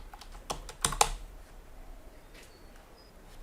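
Quick burst of typing on a computer keyboard, several close, light key clicks packed into about a second, followed by quiet room tone.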